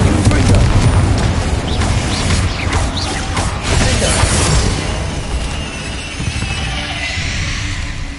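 Fire spell cast in the Hogwarts Legacy video game, a loud, sustained booming whoosh of flame with crackling bursts lasting several seconds, fading slightly toward the end.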